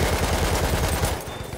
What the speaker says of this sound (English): I love this machine gun.